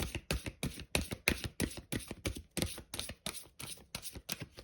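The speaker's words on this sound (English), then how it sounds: "Okay, and shuffle the cards." Tarot cards are shuffled in a steady run of quick riffling bursts, close and fairly quiet, with no talking.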